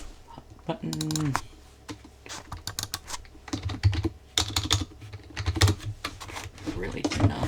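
Typing on a Razer computer keyboard sounds as close, irregular bursts of clicky keystrokes, with brief pauses between runs and a voice speaking intermittently over them.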